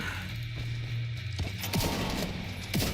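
Gunfire and a grenade blast in The Division 2 on Xbox Series X, with a steady low rumble, several sharp bursts of shots and impacts cracking through, and a sudden louder hit near the end.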